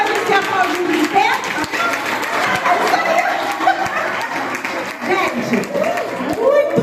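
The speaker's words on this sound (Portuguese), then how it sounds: "Como é que faz esse aplauso de pé?" A lecture audience at a psychoanalysis event gives a standing ovation: lively clapping mixed with chatter, chuckles and laughter from the crowd, with voices speaking over the applause.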